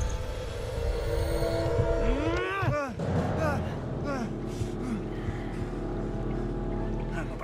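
A motorboat engine hums steadily in the horror video game Man of Medan, layered under game dialogue and music, with a low continuous drone beneath the voices.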